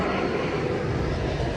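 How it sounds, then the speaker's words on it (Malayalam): Airplane passing overhead near Bengaluru airport, a continuous loud broadband engine roar through the whole brief moment. "ഇതൊരു ഫ്ലൈറ്റ് ഇപ്പോൾ ഇതിലൂടെ പോകുന്നതാണ്"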